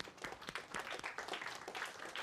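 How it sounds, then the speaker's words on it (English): Faint, distant applause rises from an audience at a finance and accounts lecture, a quick patter of many hands clapping throughout. "give him a round of applause"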